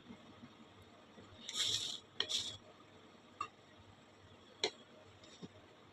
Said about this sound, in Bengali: যতক্ষণ ফুটে না উঠবে ততক্ষণ নাড়তে থাকব।